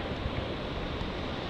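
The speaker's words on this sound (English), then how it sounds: "The lock's just filling up with water now. You can see the disturbance and the sloshing of the water here." Water sloshing and churning as a Panama Canal lock fills, a steady broadband wash with gusty wind noise over it, continuous and fairly close.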